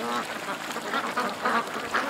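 Ducks, including one lame hen, quacking in a run of repeated nasal calls that sit fairly close and moderately loud, with no talk over them.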